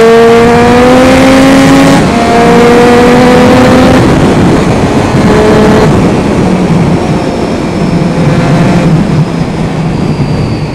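A motorcycle engine revs hard through the gears, loud and close, with a rising whine that resets at each shift before settling into a sustained high-speed drone and wind rush.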